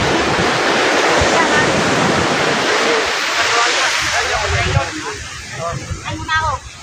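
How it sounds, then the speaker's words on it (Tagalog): Ocean waves at Anawangin cove in San Antonio, Zambales, produce a steady broad roar of surf that dominates the first several seconds, then eases back while people's voices come through near the end. "Oh, yun yung alon o."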